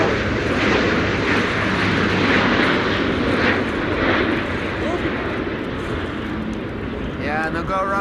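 Finnair Airbus A350 jet airliner landing at a windy Amsterdam Schiphol, its loud rumbling roar filling the air and easing slightly near the end, with a brief voice over the top.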